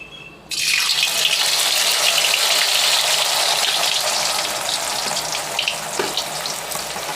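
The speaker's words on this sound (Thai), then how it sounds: "ตั้งกระทะน้ำมันเดือด แล้วก็ลงไปทอดเลยครับ" A loud, steady sizzle erupts as potatoes drop into hot oil for deep frying, then continues as dense crackling and bubbling without pause.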